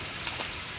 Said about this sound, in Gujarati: ચાલુ વરસાદ છે અત્યારે